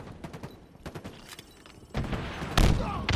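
A rocket explosion in Halo Infinite arena multiplayer: scattered gunfire cracks give way to a loud, heavy blast that booms and rumbles close up for the final second.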